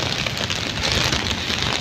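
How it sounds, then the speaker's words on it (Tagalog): Heavy rain pours steadily on a street in Baguio City, Philippines, in a dense, hissing wash, loud and close, with no voices. "pero malakas ang ulan."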